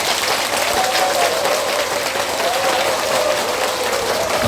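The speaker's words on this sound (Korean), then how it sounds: "여러분들 힘찬 박수를 받으면서 강의 시작하겠습니다" Lecture hall audience gives a strong, steady round of applause at the start of a talk, dense continuous clapping from many people with a faint voice underneath.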